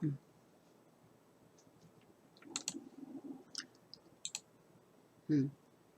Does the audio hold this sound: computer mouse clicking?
yes